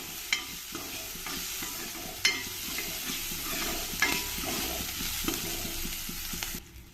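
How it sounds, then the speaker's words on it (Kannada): Chopped onion and curry leaves are stirred in hot oil in a pan for a hyacinth bean sambar. A quiet, steady sizzle runs throughout, and a spoon scrapes against the pan in a few sharp, irregular strokes. "ಇದನ್ನು ಸ್ವಲ್ಪ ಎಣ್ಣೆಯಲ್ಲಿ ಚೆನ್ನಾಗಿ ಕೈ ಆಡಿಸ್ಕೊಳ್ಬೇಕು"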